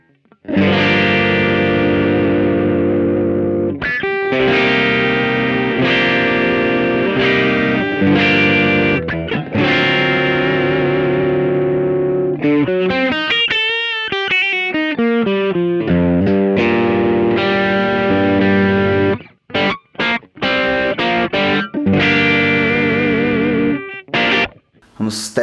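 An electric guitar on the bridge pickup, played through a Vox Amplug AC30 headphone amp with the drive near 6, gives loud distorted chords and bending single-note lines with short breaks between phrases and no talking.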